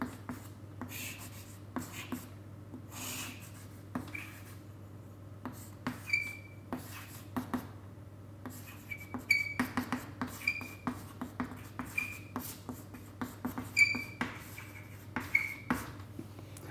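Marker or chalk drawing a diagram on a board during an engineering lecture on stress and force resolution, heard as repeated short squeaky strokes and taps over a steady low hum, fairly close, with no talking.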